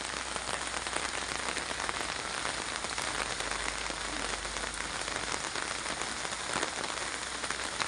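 Steady, heavy rain pours onto surfaces around a garden, a dense unbroken hiss that stays loud and even throughout, with no voices.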